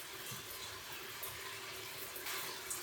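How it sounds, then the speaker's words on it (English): Shower water running steadily, a soft continuous hiss and spatter of spray, fairly faint and with no voices. "Shower."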